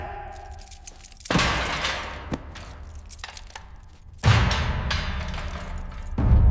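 Keys jangling in a tense scene where an inspector is made to hand them over, with sharp metallic clinks and rattles among louder thumps and bursts, close and intermittent, no talking.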